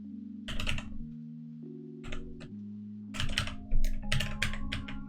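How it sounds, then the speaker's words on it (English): Fingers tap on a computer keyboard in short uneven bursts of close, crisp clicks, pausing between flurries, with no talk. "Seems like I can't type tonight."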